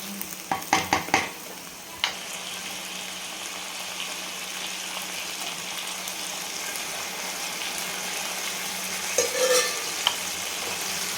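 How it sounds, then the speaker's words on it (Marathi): Mutton curry masala stirred and fried in a pan, with a steady close sizzle throughout, a few sharp scraping clatters of a spoon against the pan near the start and again toward the end. "आणि छान मिक्स करून घ्यायचं."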